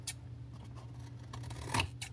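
Scissors trim paper for a handmade Valentine's candy box, with a couple of faint, brief snips over a low background hum, close and quiet.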